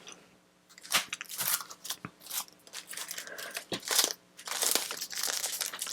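Bubble wrap envelope handled up close, with bursts of crinkling and crackling plastic between short pauses, loud and near.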